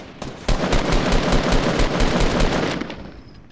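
Rapid automatic gunfire in a Fortnite squad match, a loud sustained burst of closely spaced shots that runs for about two and a half seconds before tapering off, with no voices over it.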